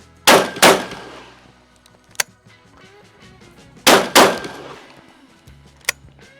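Sharp gunshots from a Soviet sport shotgun ring out in pairs, loud and close, with metallic clangs between them and quiet pauses in between.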